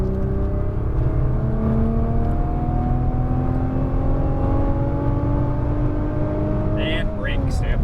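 Nissan GT-R engine at full throttle, a loud, steady roar with rising harmonics as it accelerates, running continuously up close for the whole stretch, a driving instructor's voice faintly present underneath.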